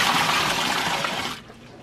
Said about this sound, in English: I'm going to be filling with the very hot water and dumping it straight into the container